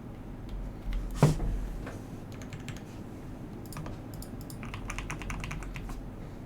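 Someone taps keys on a newly built computer keyboard, giving quiet, irregular clicking bursts over a low hum. One heavier thump stands out early on, and the clatter becomes more frequent near the end.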